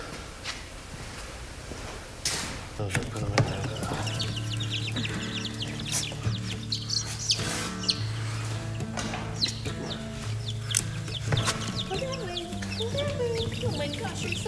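Baby chicks on a Utah homestead peep and cheep continuously over a low hum, while people talk nearby throughout.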